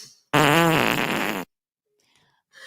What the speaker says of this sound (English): I think I can do a fart for negative.